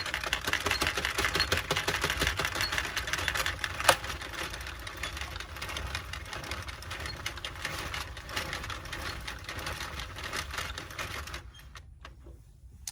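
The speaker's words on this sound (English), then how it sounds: "Now I'm going to continue to crank and the project is going to eventually fall off of the machine" An Addi Express circular knitting machine being hand-cranked without new yarn, giving a fast, steady mechanical clicking and clattering close up that runs continuously and then stops near the end.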